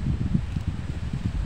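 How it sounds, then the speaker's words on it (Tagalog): Strong gusting wind from Typhoon Kristine rushes through leaves in the Visayas, a rough, low buffeting roar close to the microphone with no one talking. "Ayan, ang lakas, no? Ang bilis ng hangin."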